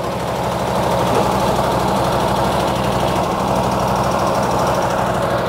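Fire pump engine on a custom-built Isuzu fire truck by Terber runs steadily, a loud close-up idle with a rapid, regular knocking pulse throughout and no voices.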